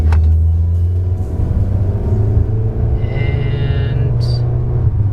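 A car pulling away from a stop under throttle, a loud low engine rumble that holds steady and builds slightly, close and continuous.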